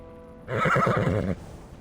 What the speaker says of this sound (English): He only sees a soldier approaching with a black horse.